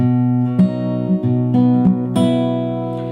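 Fingerstyle guitar playing with index and middle fingers pinching two strings together; a handful of ringing plucked notes and chords sound up close, each sustaining into the next, with no talking.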